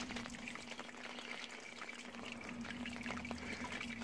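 Water from about six litres of sparge liquor trickles and drains steadily through a bed of mashed grain during a British golden ale brewday, a soft continuous pouring wash with a low hum beneath.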